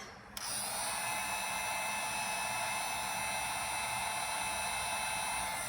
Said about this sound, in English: I'll use my heat gun